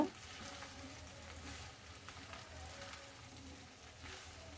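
Chicken pasta with the packet's spice mix being stirred in a pan, giving a faint, steady sizzle throughout at low volume.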